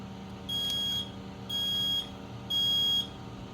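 Kidde smoke alarm sounding during a board test, three loud, evenly spaced shrill beeps about half a second each over a steady low fan hum.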